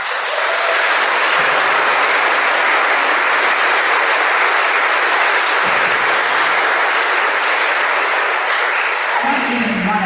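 A conference audience claps to welcome keynote speaker Sara Zewde, a dense and loud wash of applause that holds steady for about ten seconds.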